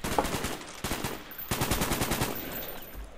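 Loud, close machine-gun fire from Call of Duty Black Ops, coming in several rapid bursts with short gaps between them.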